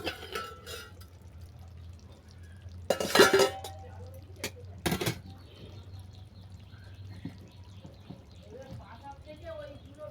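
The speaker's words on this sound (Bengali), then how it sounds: "পাঁচ সাত মিনিট হয়ে গেছে চাপাটা আমি খুলে নিচ্ছি" A metal lid is lifted off a pot of hilsa fish-head curry cooking with pumpkin and greens, giving a couple of close, sharp clanks against a low kitchen hum.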